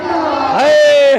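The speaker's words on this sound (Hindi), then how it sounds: "हाथ उठा के नारा लगाओ, नारे तकबीर, नारे तकबीर" A crowd at a religious gathering bellows the Takbir slogan in unison, one brief, loud, drawn-out chant whose voices rise in pitch and hold the note before cutting off.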